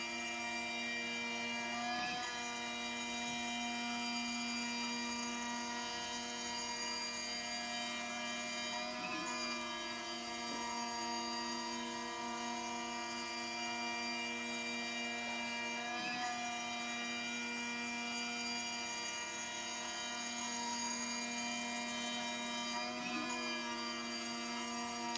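A CNC mill makes an adaptive clearing pass through wood, giving a steady high whine with strong tonal layers that holds for the whole stretch, broken every few seconds by a short change in pitch as the cutter changes direction.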